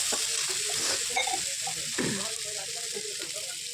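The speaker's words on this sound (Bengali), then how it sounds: "এবার আলুগুলো দিয়ে দেবো, দিয়ে একটু ভেজে নেব। এবার টমেটো দিয়ে দিলাম।" Potatoes and tomatoes fry together in hot oil in a home kitchen pan. A continuous crackling sizzle is broken by scraping stir strokes, and there is no speech over it.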